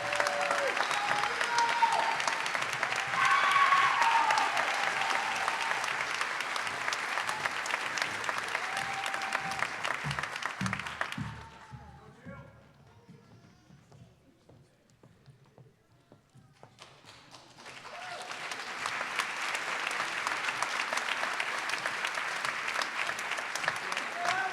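An audience applauds at the Linfield School of Nursing pinning ceremony: a dense, sustained burst of clapping lasts about eleven seconds, fades to near quiet, then swells again into another long, full round.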